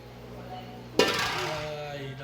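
A sudden clatter of utensil against a bowl as egg white is mixed into a chilled homemade Christmas eggnog base, with a sharp clinking onset fading into a short ringing tail.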